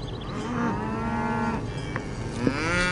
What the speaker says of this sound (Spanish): ¡Mamá, mira, vacas!